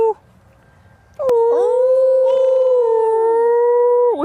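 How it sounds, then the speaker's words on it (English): A captive wolf at a wild animal safari park gives one long, loud, sustained howl close by, its pitch sliding and wavering, with a brief rise at the end and only faint background before it begins. "She loves to howl with us."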